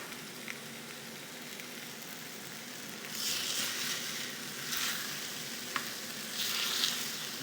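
Food sizzles steadily in a hot frying pan, with bursts of louder hissing and occasional small pops and clicks, close and continuous.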